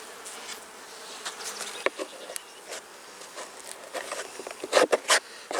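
Honeybees buzz around an open hive during a spring brood box inspection, a steady insect drone with louder, close passes of individual bees darting near.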